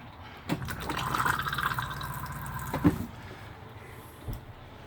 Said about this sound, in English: Simply press this button for a flush. That fills the bowl of water.